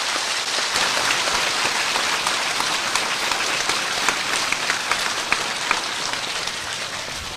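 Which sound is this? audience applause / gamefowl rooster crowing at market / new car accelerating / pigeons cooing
audience applause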